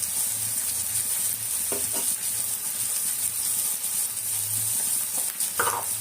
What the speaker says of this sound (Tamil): இதை அப்படியே வறுத்தோம்னா சாப்பாட்டில் போட்டு பசி சாப்பிட்டுக்கலாம்